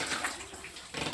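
Water running from a tap while plates are washed, a brief soft gush of flowing water, fairly faint and with no voices.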